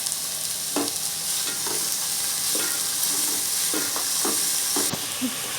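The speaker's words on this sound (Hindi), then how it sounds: "और हरी प्याज, इसे हल्का सा भूनेंगे।" Green onions with spices and crushed chilli fry lightly in a pan, a soft continuous sizzle broken by several distinct scrapes and taps of a stirring spoon.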